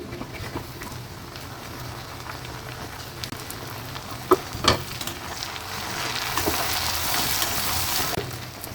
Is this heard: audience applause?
no